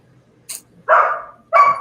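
A dog barks twice, close and loud, two short sharp woofs separated by a brief pause in an otherwise quiet indoor room, with no talking.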